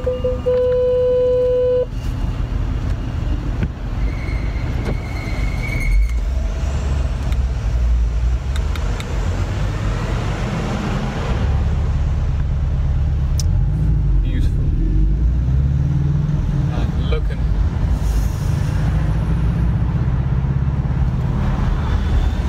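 A Porsche Boxster 718S drives through London with the top down, its engine a steady low drone that swells with acceleration amid road noise, and people talk over it at times.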